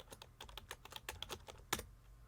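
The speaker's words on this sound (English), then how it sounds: "and type the command" Fast, close clicking of keys as a command is typed on a computer keyboard, an uneven burst of quiet taps with a slightly louder press near the end.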